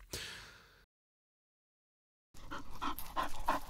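Dog panting heard in a comedy sketch on a sports field, rapid rhythmic breaths close by, with a brief breathy burst before a gap of silence.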